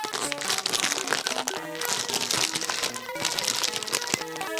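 Loud, close crinkling and crackling of a plastic M&M's bag being handled and pulled at, continuous and noisy throughout.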